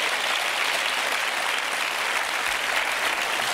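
A television studio audience applauds on the set of a French talk show, a dense, even wash of clapping that holds steady and close for a few seconds without any voices.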